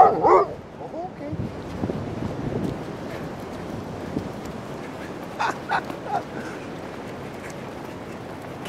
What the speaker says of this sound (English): Can't keep up with you, basset hound.